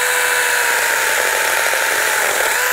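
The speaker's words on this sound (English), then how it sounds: "Let's see how quickly it goes through this oak branch right here." A battery-powered 6-inch mini chainsaw cuts through an oak branch outdoors, giving a loud, close, continuous high-pitched motor whine that holds steady throughout with no talking.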